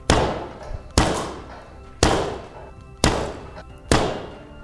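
Arrows striking a cheap foam 3D archery target and punching all the way through: five sharp, hollow thunks about a second apart, each ringing briefly before fading, close and fairly loud with no talk.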